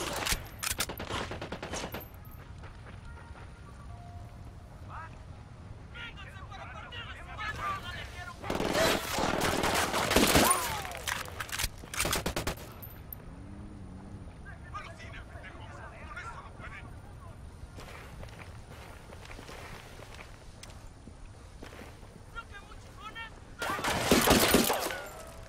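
Bursts of gunfire from a shooter video game, with heavy volleys at the start, middle and end and quieter scattered shots between, under game voice chatter and ambient noise.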